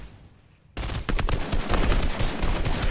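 Rapid bursts of gunfire crackle through a Fortnite match, a dense volley of sharp shots breaking in suddenly after a quiet moment and continuing in quick clustered rattles.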